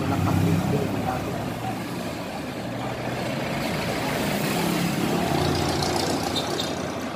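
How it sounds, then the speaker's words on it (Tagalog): A car engine idles steadily after a valve adjustment, no longer misfiring; a continuous, even low rumble runs throughout at close range with no talking. "ayos ang andar na niya pagka i-adjust na natin yung kanyang barbula"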